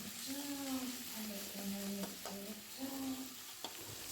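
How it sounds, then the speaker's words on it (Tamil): Ginger garlic paste, onions and tomatoes being sautéed in oil for a mushroom pepper gravy, with a steady close sizzle and occasional spoon scrapes and stirring, while a voice talks over it. "இந்த ஸ்டேஜில் நான் ஒரு ஸ்பூன் அளவுக்கு இஞ்சி பூண்டு பேஸ்ட்டும் சேர்த்து அதனோட பச்சை ஸ்மெல்லும் போகிற அளவுக்கு நம்ம நல்லா அந்த எண்ணெயிலே வதக்கிக்கணும்"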